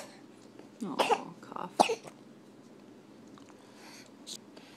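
A baby coughs quietly indoors, a couple of short hacking bursts close by, then faint breathy sounds in a calm room.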